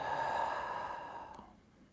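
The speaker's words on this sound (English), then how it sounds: "Take another deep breath." One slow, deep exhale during a guided gratitude meditation, soft and close, with a breathy tone that fades out after about a second and a half.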